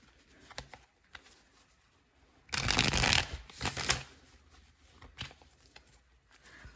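Tarot cards being shuffled, a soft patter of handling and then one loud, crisp riffle burst lasting about a second and a half, followed by quieter taps and card sounds.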